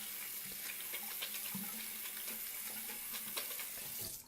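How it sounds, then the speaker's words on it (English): Tap water runs steadily over a washable pad being rinsed clean, a continuous close splashing hiss with small irregular splatters. "then you just want to rinse it until it runs clear"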